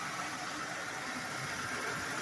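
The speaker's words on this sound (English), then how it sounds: "smooth and quiet idling" A 2002 Buick Park Avenue engine with fresh injectors idles smoothly and quietly, a steady even hum with broad airy noise and no variation, nearby and with no talking.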